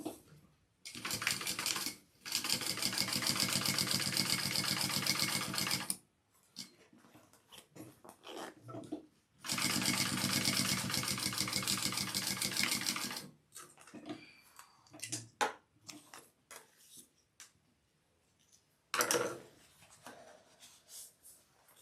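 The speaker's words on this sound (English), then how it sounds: "we are going to sew along that, fold it out and top stitch" A sewing machine top stitching a convertible bag, running in two long, steady, rapid bursts of several seconds each, then several shorter stop-and-start runs amid quiet handling noises.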